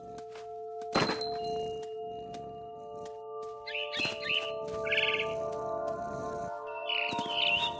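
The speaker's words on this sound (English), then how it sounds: "Then I heard chirping outside my window. It was a barn swallow going back to her nest." A barn swallow chirps in bright bursts in the video game What Remains of Edith Finch, after a sharp thunk and among ringing tones and other scattered knocks in a quiet scene.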